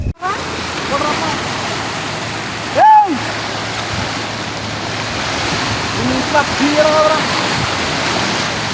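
A flooded stream rushes in a steady loud roar of churning water with gusts of wind on the microphone, while people shout nearby.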